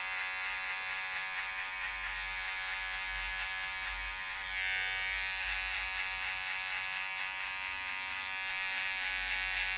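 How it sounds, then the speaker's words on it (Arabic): Small electric hair clippers with a sharp zero blade cutting a man's hair during a fade haircut, a loud, close, steady buzzing drone that runs unbroken throughout. "الآن سوف نستخدم الماكينة الصغيرة ذات الصفر الحاد."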